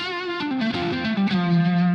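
An overdriven electric guitar played hard on the neck pickup, a loud, gritty line of sustained notes stepping downward with a shimmering chorus effect, no voices.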